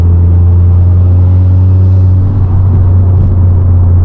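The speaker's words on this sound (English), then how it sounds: "if I put my foot down now in 6th gear, as you can see, it'll just shoot off" A 600bhp Golf R accelerates hard in sixth gear with a loud, steady, droning engine rumble that fills the cabin from start to finish.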